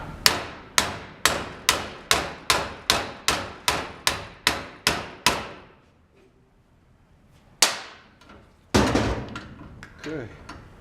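Hammer striking a U-joint during replacement: a dozen loud metallic blows in a quick, even rhythm, then a pause with faint handling noise, followed by a few more heavy strikes and clanks.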